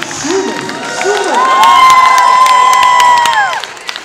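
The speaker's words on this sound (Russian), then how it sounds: "еще раз эти аплодисменты" An audience at a hip-hop dance competition final cheers and whoops, rising into sustained loud crowd noise with shouts and applause, while a voice carries over the din.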